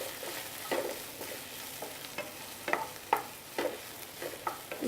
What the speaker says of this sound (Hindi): जो वाइट ऑनियन का पार्ट है, वो थोड़ा सा ला लेंगे। इसे अच्छे से थोड़ा भून लेंगे इसे।